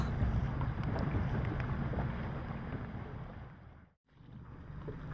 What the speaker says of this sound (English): The sky is cloudy and the wind still strong.